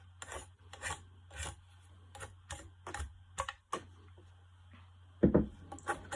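Knife whittling a wooden stick, a series of short faint scraping rasps in an irregular rhythm over a low steady hum, close but quiet, with one louder scrape near the end.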